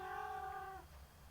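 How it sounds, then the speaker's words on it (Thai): A cat gives a single drawn-out, close meow lasting under a second, then a quiet pause follows. "มันคุยอะไรกันนะแมว คุยภาษาแมวมันคุยอะไรกันนะ"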